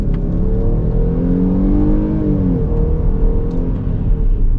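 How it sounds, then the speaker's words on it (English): A 2020 Dodge Durango SXT V6 accelerates at full throttle, its engine a loud, steady rising drone with whirring gear changes, close and continuous, with no talk. "now we're going to get our full-blown acceleration once this minivan's done making a U-turn"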